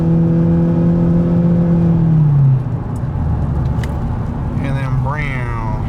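A 2017 Ford Fusion hybrid with a 2-liter engine accelerates, its steady motor whine holding then dropping in pitch midway, settling into a broad road-and-engine rumble as a person talks.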